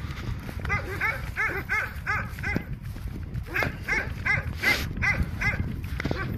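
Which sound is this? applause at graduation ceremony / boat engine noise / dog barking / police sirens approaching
dog barking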